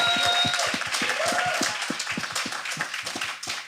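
A live studio audience applauds at a poetry and talk show taping, a dense burst of many hands clapping that starts strong and gradually thins and fades.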